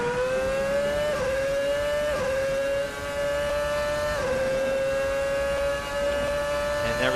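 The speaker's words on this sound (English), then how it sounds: "Hear it just rumbling away behind me as it's cutting spark and fuel delivery" VRC F2007 race car in the video game Assetto Corsa, the engine holding a steady high-pitched rumble under traction control, with brief dips and stutters roughly every two seconds as spark and fuel are cut, heard alone.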